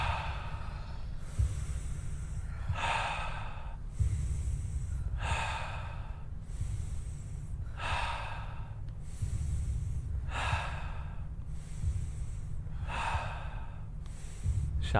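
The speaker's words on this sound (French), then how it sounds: "Inspirez par le nez, expirez par la bouche." Rhythmic breathing exercise: steady, evenly spaced inhales through the nose and forceful exhales through the mouth, repeated about every two and a half seconds over a low background hum, close and clear.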